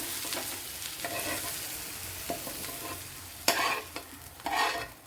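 Onions are lightly sautéed in a pan for a salad, producing a gentle continuous sizzle broken by occasional louder stirring scrapes, with no talking.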